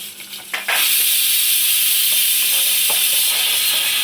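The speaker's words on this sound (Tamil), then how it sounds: "இப்போ வந்து சின்ன வெங்காயமும் பூண்டும் சேர்த்துக்கலாம். நல்லா வதங்கணும்." Shallots and garlic dropped into hot oil in a pan, bursting into a loud, sustained hiss and sizzle after a brief quieter moment at the start, with no talking.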